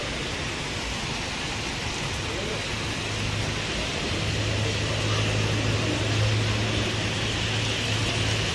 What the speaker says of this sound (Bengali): ভালো জোরে বৃষ্টিটা নেমেছে।